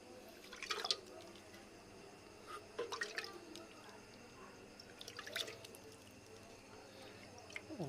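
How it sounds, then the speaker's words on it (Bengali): Water poured onto freshly planted soil, heard as faint, scattered drips and soft splashes in three or four short bursts over quiet background. "পানি এখন সেটাইয়া দিলাইলাম।"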